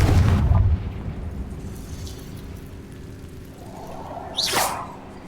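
A Confringo blasting spell in Hogwarts Legacy goes off with a heavy opening boom that fades into a low rumble, followed later by a sharp rising whoosh and crackling burst.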